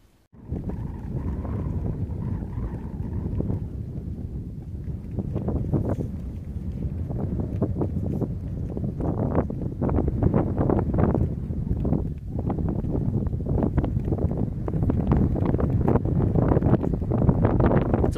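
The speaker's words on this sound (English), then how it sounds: "It's a little windy here, but not a bad view." Strong wind buffets the microphone on a mountain trail near Cove Mountain, a constant low roar with gusty rumbling that grows heavier toward the end, with no talking.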